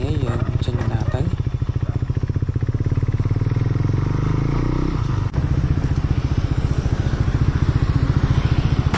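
A KTM Duke motorcycle rides off, its engine note rumbling steadily and rising as it pulls away, with talk over the top.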